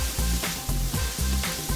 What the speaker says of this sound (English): You know the puri is cooked when the oil stops sizzling.